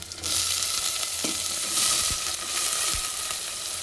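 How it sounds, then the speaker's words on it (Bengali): Potatoes and banana flower sauté in hot oil with cumin seeds and dried chili, making a loud, steady hiss with a few soft utensil knocks against the pan. "এবার এটাকে ভালো করে কষতে থাকবো"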